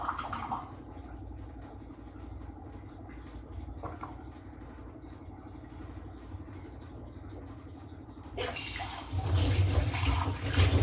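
Water trickles slowly into a tank that is barely filling, a faint steady flow under low background noise, then a louder rushing surge near the end.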